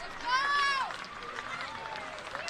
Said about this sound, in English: Firebirds home crowd trying to rattle Levi Wells on the mound.